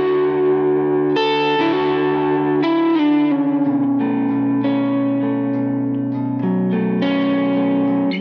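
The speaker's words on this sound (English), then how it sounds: "we're going to be on the neck pickup with a slightly broken up tone on my Kemper Profiler" A Cort G290 FAT II electric guitar on its neck pickup plays through a Kemper Profiler AC30 preset with slight break-up and a little reverb, sustained warm chords changing every second or so, loud and steady with no voices.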